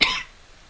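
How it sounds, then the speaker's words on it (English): A single sharp cough bursts out close to the microphone, a short harsh hack that fades quickly into near silence. "Sorry, still got the cough."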